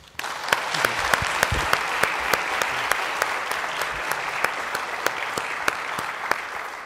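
An audience applauds keynote presenters after a conference Q&A session, a steady, fairly close wash of clapping with a few sharper individual claps standing out, lasting several seconds without speech.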